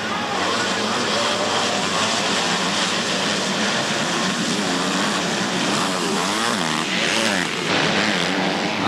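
125cc motocross motorcycles racing in an AMA 2005 heat, a Kawasaki Pro Circuit bike leading, heard as a continuous loud blare of engines that swells briefly near the end, with an announcer talking over it.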